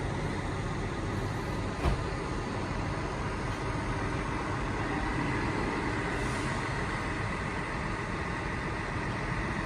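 Buses idle at a Disney World resort bus station, heard as a steady low engine rumble at a moderate distance, with a brief faint click near the start and no speech.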